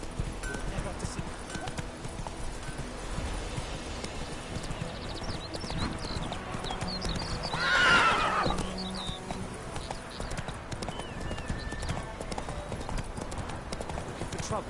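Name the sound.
horse Roach galloping in The Witcher video game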